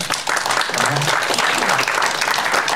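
Audience applause at a welcome ceremony for new residents of Caudry, steady dense clapping filling the whole moment with a faint murmur of voices underneath.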